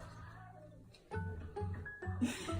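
A pet cat meows in a home, short tonal cries that grow louder after a quiet stretch and repeat several times close by, with faint household noise under them.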